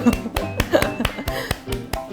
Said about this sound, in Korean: 나 혼자 박수.